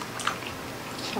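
Close-up chewing of a mouthful of Cavite-style menudo, a Filipino pork and tomato stew, with soft wet squishy bites over a short stretch and no talk.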